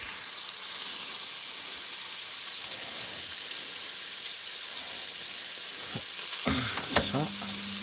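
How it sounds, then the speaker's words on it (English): Steady frying sizzle of onions sweating in a pan, a continuous crackling hiss with a few clinks of a utensil near the end. "we're just sweating the onions a little bit."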